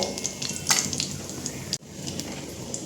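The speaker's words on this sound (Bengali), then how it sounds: "ফোড়নে দেব গোটা জিরে আর দেব গোটা গরম মশলা সঙ্গে দিয়ে দেব একটা শুকনো লঙ্কা ফোড়নটা একটু ভাজা হতে দেব" Whole cumin, whole garam masala and a dried red chilli frying in oil as a tempering, giving a steady close crackling sizzle with brief pops and a short break near the end.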